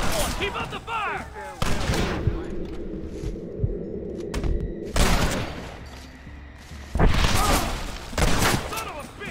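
Gunfire rattles in a Red Dead Redemption shootout, with repeated bursts of close, sharp shots and booming volleys separated by brief lulls, while voices shout over the din.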